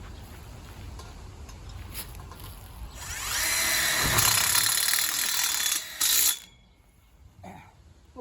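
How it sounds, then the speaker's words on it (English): Cordless power drill driving screws into a greenhouse end-wall frame for a polycarbonate high tunnel, with a sustained, whirring drive of a few seconds, a short second burst, then quiet handling noises nearby. "I'm going to get 2 screws in here just so it doesn't move"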